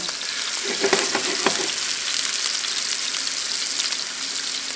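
Braciole sizzles steadily in a hot pan as the rolled, stuffed meat is laid seam side down to sear, with a constant fine crackle and a few brief louder spits near the start.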